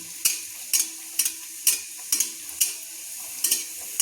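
Green pea kachori fry in hot oil, and a utensil scrapes or taps sharply in the pan about every half second. The regular strokes sit over a low, constant sizzle, with no talking.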